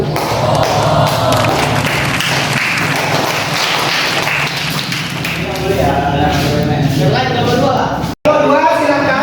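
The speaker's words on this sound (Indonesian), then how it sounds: "Tepuk tangan buat kelompok 1" Classroom applause for a student group, a dense burst of clapping from many hands with mixed voices, fading into talk before a brief cutout near the end.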